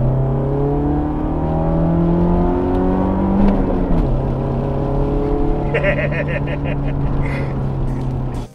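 A BMW 3 Series Compact E36 with a 1.8-litre 140-horsepower engine drives under steady load, its engine drone rising in pitch before an upshift and then holding a lower hum, heard from inside the car.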